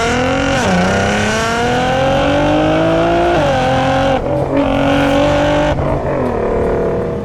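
Nissan GT-R accelerating hard through the gears, a loud close engine roar climbing in pitch with quick upshifts that briefly drop it before it climbs again.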